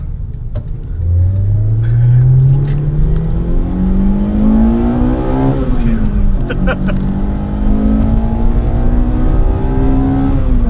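The engine of an original, untouched Toyota RunX TRD revs hard while driving at high altitude, climbing steadily through the gears. A brief dip and a renewed climb follow, loud and close inside the cabin throughout.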